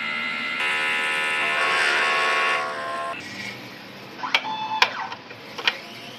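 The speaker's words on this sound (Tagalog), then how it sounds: "Ito po ang DTF machine sa Robinson Novaliches." A DTF printer in a shop runs a head clean cycle, giving a steady mechanical whir and tonal hum for a few seconds that fades into quieter background, followed by a few short beeps and clicks.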